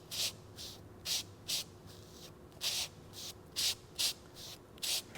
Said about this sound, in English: I take a little bit of Bondo, a little bit of hardener, mix it with the razor blade.